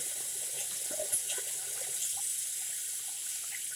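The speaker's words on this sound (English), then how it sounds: "Sorry about the water noise and all that," Tap water runs steadily into a sink as oil is washed off hands, a close, continuous splashing hiss that stays fairly even for the whole stretch.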